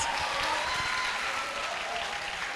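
Sustained audience applause for Miss Ella at a dentistry conference: a thick, continuous crackle of many hands clapping at an even level, with no voices.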